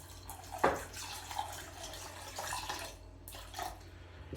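Water splashes into a pressure cooker holding soaked lentils and turmeric powder for a Gujarati-style lentil curry in a village kitchen, arriving in a few short pours with brief gaps between them, close and fairly quiet.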